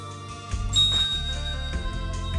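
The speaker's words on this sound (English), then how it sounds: "I ring the bell, and the thing starts over again." A bell chimes in the visual novel Never7, a bright ringing tone with a lingering ring over a soft musical background, heard once and alone without any voices.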